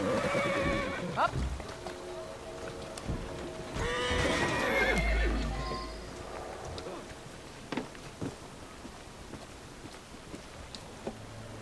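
Horses in the video game Assassin's Creed Syndicate neigh loudly, with one prominent whinny midway, while hooves clip-clop and thud in the background. A person talks over parts of it.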